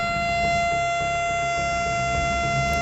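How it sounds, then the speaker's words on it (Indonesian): A steady, sustained siren wails throughout, with flat unbroken tones over a low rumbling bed and no voices. "suara sirene menggema di kejauhan"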